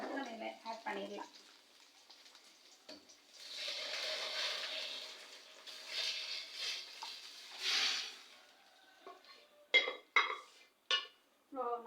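Sambar from a pressure cooker is poured into a browned mixture in a pan. A broad hiss of sizzling swells and fades over several seconds, broken by stirring clatter. A voice is heard briefly at the start.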